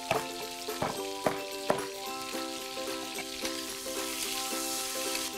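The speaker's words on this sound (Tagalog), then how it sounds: "Sear natin yung chicken." Chicken pieces searing in hot oil in a pan, a steady close sizzle with a few sharp crackles and pops in the first two seconds, then an even hiss with faint tonal hum underneath.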